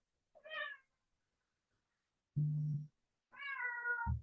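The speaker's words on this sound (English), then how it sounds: "I think this cat wants to be let out of the room." A cat meows to be let out of a room, giving three distinct plaintive meows separated by silence, fairly near and clear, with no speech over them.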